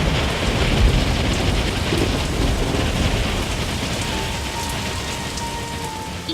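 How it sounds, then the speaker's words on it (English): A hailstorm sound effect with heavy rain and rolling thunder plays in a children's Bible story about the plague of hail on Egypt. Loud, steady, dense pelting fills the whole stretch with no voices. "When Pharaoh said no again, God sent a plague of hail"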